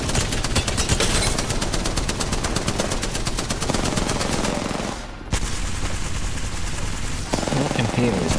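Rapid automatic LMG fire from Apex Legends rattles almost nonstop at close range, a loud stream of gunshots with a brief gap near the middle before the burst resumes.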